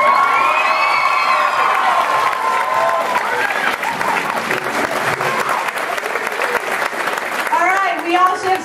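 Audience at a school production of Guys and Dolls Jr. breaks into sustained applause with cheers and shouts from children, a dense, even roar of clapping that carries on throughout with whoops rising near the end.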